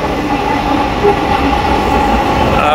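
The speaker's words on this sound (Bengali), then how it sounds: "মেট্রো রেল চলে আসছে।" A Dhaka metro rail train pulling into an elevated station at Uttara Diabari, a loud continuous rumble and hum of the carriages rolling in close by, with no talk over it.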